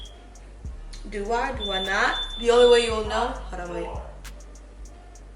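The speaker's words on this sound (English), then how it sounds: "That's my alarm system." A home alarm system gives off a thin, high-pitched electronic tone that sounds intermittently under a person talking nearby.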